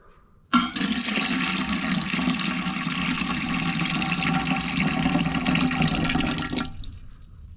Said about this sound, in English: What if we pour both of them together?